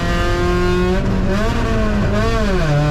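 Race car engine held at full throttle on a wet track, a loud close howl whose pitch dips and climbs through a corner, sustained without break and with no voices.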